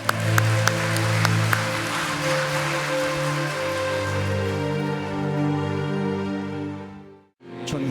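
A church congregation at a Sunday service claps to the glory of God, a dense, sustained applause under a held organ or keyboard chord. The sound fades out near the end.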